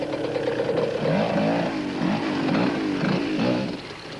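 Off-road Yamaha motorcycle engine working steadily through a boulder-strewn mountain section of the Roof of Africa race in 1991, with rising and falling revs and throttle blips as the rider picks his way down carefully, moderately close.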